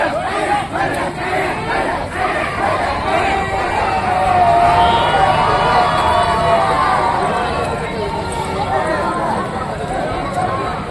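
A large festive crowd at a procession in Solapur, a dense roar of cheering and shouting voices sustained throughout, with a swell of excitement in the middle.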